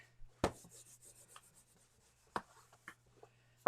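A pen sketches a quilt block on paper, quiet scratchy strokes and rubbing in short bursts with a few sharper taps over a low steady hum.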